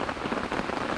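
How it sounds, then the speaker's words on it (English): Rain patters steadily onto a big tarp strung over a campsite and fire, a dense, continuous crackle of many close drops with no pauses and no talk. "you can hear all the raindrops hitting the tarp"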